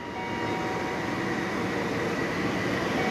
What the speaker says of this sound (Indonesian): Dan ini langsiran kereta api Argo Muria.